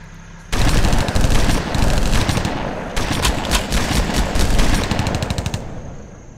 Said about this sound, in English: Let's try to open fire all together.